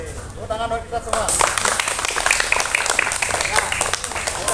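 A primary-school class in a pencak silat lesson breaks into applause, sudden dense clapping that starts after a spoken instruction and keeps going, bright and close, with voices mixed in.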